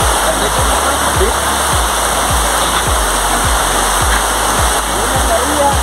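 Countryside waterfall in rural El Salvador, a loud continuous rushing roar with a repeating low thumping pulse underneath, steady throughout with no pauses.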